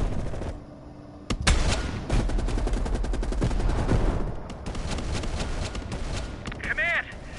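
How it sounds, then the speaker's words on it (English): Sniper rifle gunfire in the video game Call of Duty Cold War sounds as sharp, loud shots with rapid bursts and reports, mixed with game effects and a brief warbling tone near the end. "You readied your sniper rifle to assist."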